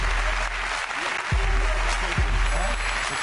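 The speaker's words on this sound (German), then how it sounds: "Das ist Ihr Applaus" Steady studio audience applause in a German television sports studio for footballers Granit Xhaka and Xherdan Shaqiri, a continuous wash of clapping with some speech mixed in.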